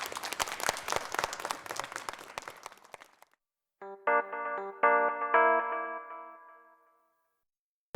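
Studio audience applauds Samuel with a burst of clapping that fades out, followed by a bright, tonal stinger of musical chimes.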